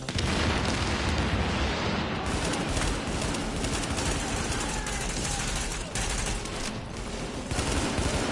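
Grenade blast amid constant loud gunfire in the shooter game The Division, the explosion buried in dense, continuous firefight noise with no clear gaps.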